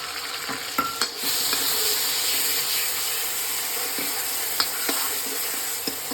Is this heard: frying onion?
yes